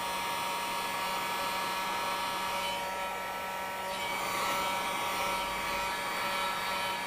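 A hair dryer runs close and loud without a break, drying water-based paint on leather and vinyl, its steady whooshing airflow shifting slightly in tone as it is moved around.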